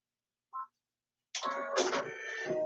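A sewing machine's automatic thread cutter fires once with a faint short click, then after a pause gives a louder mechanical whir and clatter lasting over a second, close and isolated.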